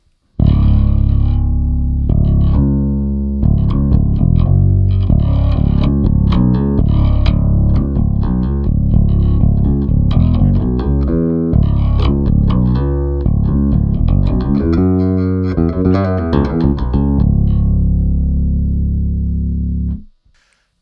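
A bass guitar tuned to drop D plays through a Boss XS-1 polyshifter pedal, giving a loud run of low, pitch-shifted notes with a thick, effected tone. The notes are plucked in a steady sequence for about twenty seconds, then stop abruptly.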